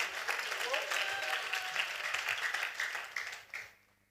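A church congregation breaks into applause, a dense wash of many clapping hands with voices mixed in, which fades out and stops near the end.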